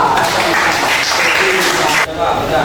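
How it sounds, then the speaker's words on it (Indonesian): Students in a classroom clapping for a group that has just presented, a loud continuous patter of hands with talk and voices mixed through it. "berikan juga tepuk tangan kepada kelompok 5"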